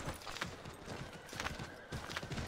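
Hooves clop in a steady trotting rhythm in the video game Assassin's Creed III, fairly quiet, with a faint whinny-like tone mixed in.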